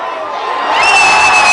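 A big crowd at a high school football game between the Colonials and Westford roars in loud, sustained cheering that swells and holds, with shouts and whoops rising above it.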